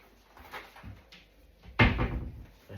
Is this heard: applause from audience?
no